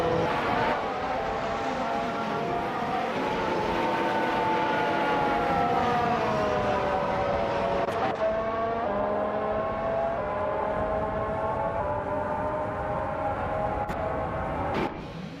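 Engines of AI-driven cars in a racing video game drone steadily, their whining tones rising and falling as they race past, loud and continuous throughout.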